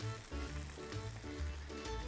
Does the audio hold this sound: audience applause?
no